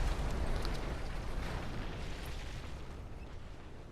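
Bomb blast from the Mad Max video game: a dense, rumbling explosion that fills the opening moment, then a long, steady roar of debris slowly thinning out, with no voices over it.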